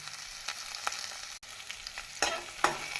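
Chopped onion fries in hot oil with mustard seeds, urad dal and cumin, sizzling steadily and crackling, with several scraping stirs from a spoon close up.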